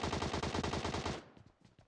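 Rapid automatic gunfire in PUBG Mobile rattles off in a dense, loud burst for about a second, then trails off into scattered fainter shots and echoes.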